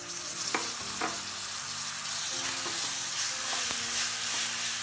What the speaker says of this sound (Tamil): தக்காளியை போட்டு வதக்கிக்கலாம்.